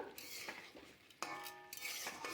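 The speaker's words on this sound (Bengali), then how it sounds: "এখন ভাঙা বড়িগুলো দিয়ে আরও কিছুক্ষণ নাড়াচাড়া করব বন্ধুরা" A spoon scrapes and stirs broken fried lentil dumplings with spinach in a pan, several soft clinking strokes against the metal at low volume.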